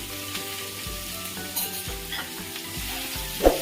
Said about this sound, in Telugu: ఒక రెండు నిమిషాలు ఐ ఫ్లేమ్లో పెట్టుకొని ఇలా అటు ఇటు కలుపుకోవడమే అనమాట